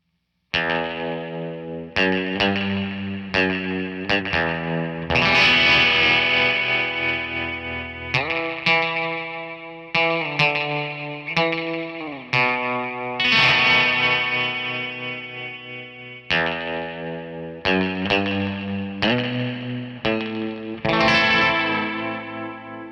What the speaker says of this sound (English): the spring reverb in it is one of the more realistic digital spring reverbs that I've heard in a while